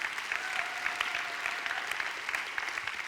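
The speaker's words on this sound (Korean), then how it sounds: "박수 한번 해요" A church congregation at a Sunday afternoon service claps together in steady, sustained applause, dense and even throughout with no voices breaking through.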